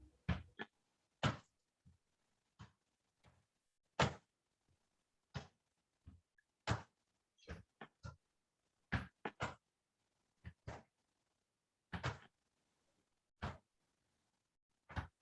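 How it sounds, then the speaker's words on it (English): Hands knock on the chest over the lungs in a qigong exercise, sharp dull thumps in loose irregular bursts spread across about fifteen seconds, with quiet gaps between them. "working with the lungs and stimulating the immune system by doing this knocking on their lungs"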